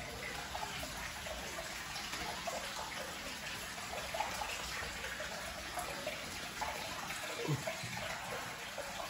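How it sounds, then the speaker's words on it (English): Water drains steadily from a leaking aquarium being emptied for resealing, a continuous soft rushing and trickling wash with no talk over it. "I'm gonna go ahead and drain the water"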